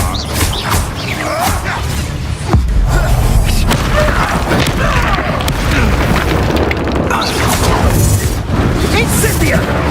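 Confringo fire spells exploding during combat in Hogwarts Legacy, a barrage of loud booming blasts and crashing impacts over dense game noise, with voices shouting throughout.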